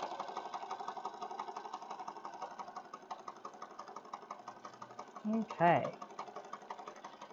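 A sewing machine stitches a junk journal pocket with a fast, even mechanical chatter close by, and a voice speaks briefly near the end.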